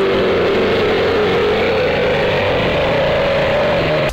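Steady, loud droning car engine in the video game Bou's Revenge, a continuous buzzing hum holding one pitch that rises slightly over four seconds.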